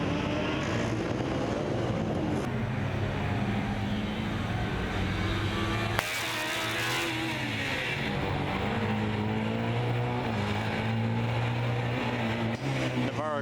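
A Formula Student race car runs an endurance event at Formula Student Germany 2016, its engine whining and buzzing with shifting pitch as it drives past on track, fairly loud and continuous, a second vehicle tone blending in partway through.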